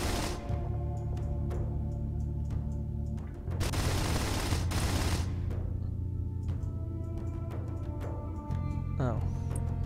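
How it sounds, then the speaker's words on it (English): Gouger mining cannon pulverizing an asteroid in Battlestar Galactica Online, a steady loud droning beam sound with a burst of harsh crackling blast noise midway, continuous throughout. "Approach an asteroid and activate the gouger. Use it to pulverize the target"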